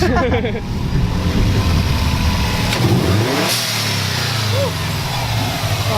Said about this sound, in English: I hear the intake now.